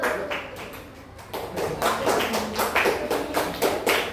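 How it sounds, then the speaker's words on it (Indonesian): Classroom "tepuk salut" clapping by a fourth-grade class, rhythmic claps in short bursts with children's voices chanting along. "Yuk kita berikan tepuk salut juga kepada teman yang sedang mau maju ke depan."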